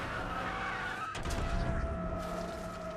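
Cars race in a movie scene, with a sustained engine drone, a sharp tire skid near the middle and continued roaring motor noise afterward, all fairly loud and without talk.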